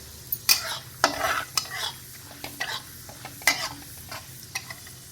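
Chana dal frying in a pan, sizzling steadily while a utensil scrapes and stirs it in short, irregular strokes; close and fairly loud, with no talking.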